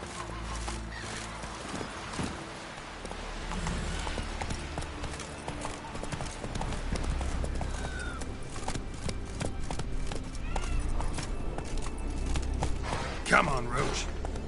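Roach, a horse in a video game, clip-clops along in steady rhythmic hoofbeats at close range, with a whinny breaking through near the end, while a voice talks throughout.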